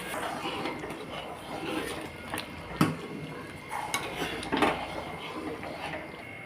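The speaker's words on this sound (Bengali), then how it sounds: "এখন মাংসটাকে কিন্তু ঢেলে নিচ্ছি" Cooked mutton curry tipped out of a cooking pot, with scattered metallic scrapes and clinks of utensil against pot and a soft pour, close and moderately loud over kitchen background.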